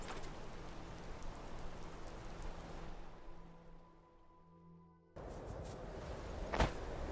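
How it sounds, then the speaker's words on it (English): Steady hiss of rain falling in Skyrim Anniversary Edition, fading away midway to near silence before the downpour abruptly returns, with a low hum beneath. "Why is it always raining?"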